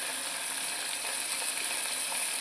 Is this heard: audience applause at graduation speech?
no